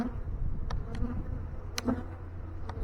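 A honey bee swarm being moved into a hive box, a dense continuous buzz of many bees close by, with a few brief louder passes.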